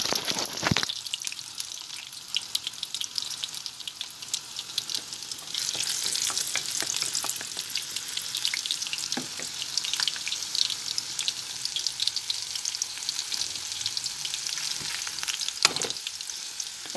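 Chopped garlic fries for pickle in a pan, giving a steady hissing sizzle with scattered stirring scrapes and clicks throughout.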